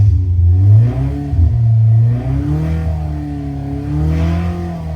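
A car engine on a dynamometer hums and revs in a steady mid-range drone, the pitch dipping and climbing again as the load shifts, loud and close with no voices.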